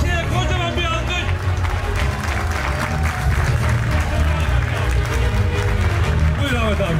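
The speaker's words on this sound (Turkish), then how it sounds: "kocaman bir alkış" An audience at a gathering applauds with continuous, fairly loud clapping, while people talk and call out over it throughout.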